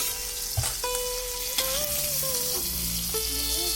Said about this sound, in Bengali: ফুলকপিটা ডালের জন্য ভাজা করে নিলাম।